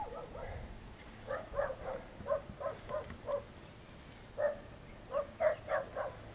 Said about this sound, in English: let's get away from these barking dogs